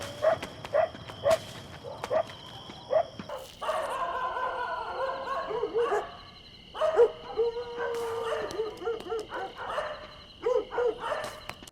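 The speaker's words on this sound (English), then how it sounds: "ఎక్కడో ఒక surround స్పీకర్లో distant dog is howling" A distant dog howling through a surround speaker, with repeated yelping cries and drawn-out whining howls in an uneven rhythm. The sound is fairly clear and has no talk over it.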